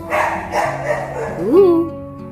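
A small dog, a Chihuahua, gives a short bark and whimpering yip while resting in a vehicle, close and fairly loud, with someone talking around it.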